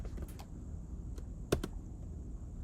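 Someone types a password on a computer keyboard in a few scattered, soft key clicks, one sharper tap standing out, over a quiet steady room hum.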